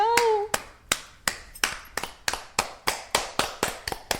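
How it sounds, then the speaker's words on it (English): A round of applause in a podcast setting: a dozen crisp, evenly spaced hand claps, close and fairly loud, following a brief voice at the start. "That is a round of applause."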